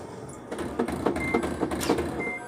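A Samsung washing machine shakes and rattles in a home, giving a rapid series of knocking thumps over a steady mechanical hum, fairly faint and without speech.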